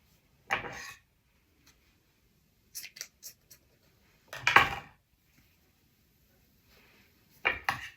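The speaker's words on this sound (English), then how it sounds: "My scissors, I believe, is getting a little dull." Scissors that are getting dull cut through material while making a rustic wooden canvas picture, several short separate snips and clicks, close and clear against silence.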